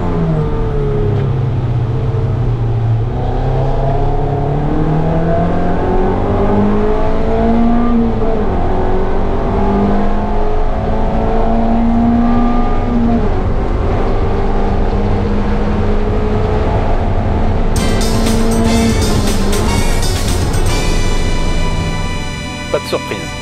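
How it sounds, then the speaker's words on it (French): Onboard a race car at the finish of a track race, the engine drones and revs through rising and falling gear changes, loud and close for over twenty seconds before a sharp burst of noise near the end. "On peut par contre assister à la fin de la course à bord de la voiture de Flavien."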